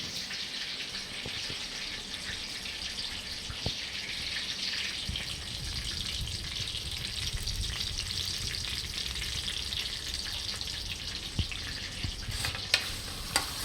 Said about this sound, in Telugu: ఉల్లిపాయలు వేస్తున్నాం